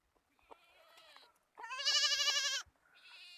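Young goat kids about a month to forty days old bleat on a farm, two or three wavering calls close by, the middle one long and loud, the others shorter and softer.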